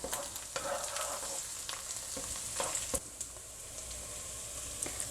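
Dry chilies and onion sizzle steadily in hot oil in a home kitchen, a continuous crackling fry with occasional louder pops and stirring scrapes, close and alone with no talking.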